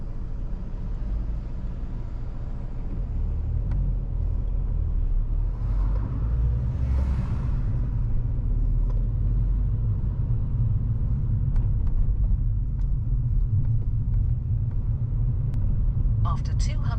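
A car drives steadily down a road behind a bus, its low engine and tyre rumble continuous and close throughout, with a brief faint hiss midway and a few light clicks near the end.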